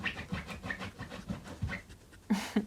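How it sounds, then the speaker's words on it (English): A dog, a female, pants in quick, rhythmic breaths close by, with a bit of scratching and shuffling mixed in and a louder huff near the end. "That's my dog, if you hear her."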